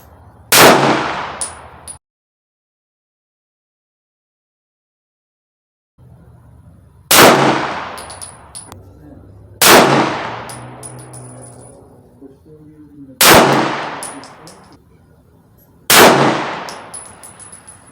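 Five loud, sharp pistol shots from a CZ 75 D Compact fired at a 25-yard target, each crack trailing into a ringing decay, spaced a few seconds apart with one long quiet gap.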